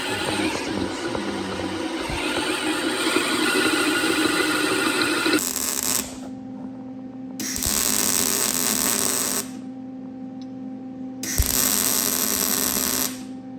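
A drill boring a hole through a metal seat bracket for a minibike, three loud grinding, shrieking bursts of several seconds each over a constant background hum, close by and without talk.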